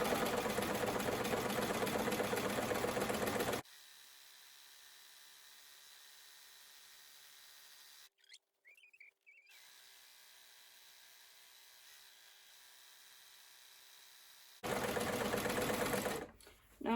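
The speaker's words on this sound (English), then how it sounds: "I'm going to stitch the bottom hem at this point." Sewing machine stitching the bottom hem of a pair of trousers, running loud and steady in two long bursts separated by a quiet stretch with faint handling noise.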